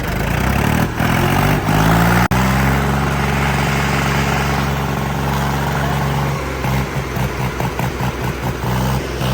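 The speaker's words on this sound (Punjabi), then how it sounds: "ਬਾਈ ਟਰੈਕਟਰ ਦੀ ਸਟਾਰਟਿੰਗ ਚੈੱਕ ਕਰਿਓ ਇਹਦੀ ਬਹੁਤ ਸੋਹਣੀ ਸਟਾਰਟਿੰਗ ਆ" A Swaraj 855 tractor engine cranks and catches, then runs with a loud, steady low rumble that later turns choppy and uneven.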